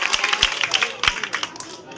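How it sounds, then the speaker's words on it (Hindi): Lively applause from a gathered crowd as a child receives a certificate at a prize ceremony, with many overlapping claps filling the whole stretch and voices talking underneath. "जोरदार तालियां हो जाए"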